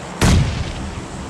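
A grenade blast in the game PUBG Mobile Lite: a single sudden, loud boom with a sharp attack, followed by a fading rumbling decay and no talk.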